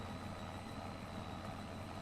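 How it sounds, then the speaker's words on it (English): A small tractor engine in Farming Simulator 25 gives a low, steady droning hum at fairly soft level, holding an even pitch with no clear rise. "Accelerates. Yeah, it's pretty snappy little tractor"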